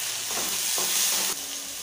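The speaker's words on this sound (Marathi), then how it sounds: "लसूण आपला परतल्यानंतर आपण यामध्ये टोमॅटो घालून घेऊया" Tomatoes frying in a pan with garlic for a quick dal-onion dish, a steady close sizzle with faint stirring scrapes, alone without talk.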